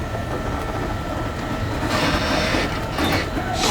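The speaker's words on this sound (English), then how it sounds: "The tram's leaving, and we'll be going right on up." A Universal Studios Hollywood tour tram rolls steadily along its route, a continuous loud rumble of wheels and motor with faint rattling and no talk over it.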